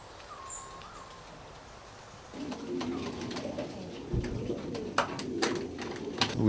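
Homing pigeons coo at their loft, a soft low murmuring that swells in after a quiet start and keeps going over faint rustling and a few sharper chirps near the end.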